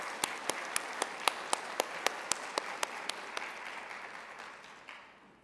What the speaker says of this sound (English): Warm applause for Joe.